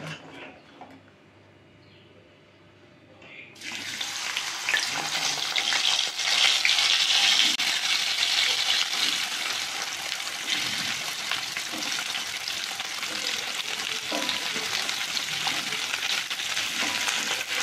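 Vegetable filling for vegetable chops fries in oil with no water added. After a quiet start, a loud, steady sizzle bursts in and holds close and constant to the end.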